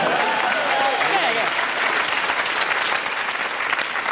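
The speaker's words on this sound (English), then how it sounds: "Do you clap for someone cutting a Lebanese cucumber up?" An audience applauds a sword act that slices up a Lebanese cucumber, with dense, sustained clapping filling the room and a brief voice speaking over the start.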